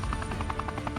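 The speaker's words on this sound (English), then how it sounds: "the rescue helicopter departs instantly for the trauma center" A rescue helicopter departing after hoisting up a paragliding crash patient, heard as a brief, faint, steady rotor drone with rhythmic blade pulses and no voices.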